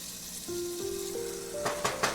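Food sears in a very hot pan with a steady, close sizzle, a few sharp crackles and pops near the end.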